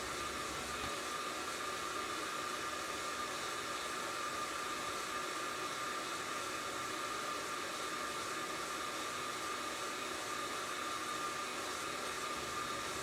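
Fresh Roast SR540 coffee roaster with an extension tube running, its fan giving a steady, even hiss and whoosh of rushing air throughout, close and continuous, with no voices.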